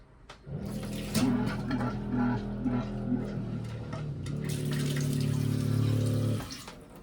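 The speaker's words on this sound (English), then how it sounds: "Seawater here if you need it." A seawater tap on a Dufour 530 sailing yacht runs into the galley sink, a steady close splash and hum of pumped water that starts abruptly, shifts in pitch partway through and then stops.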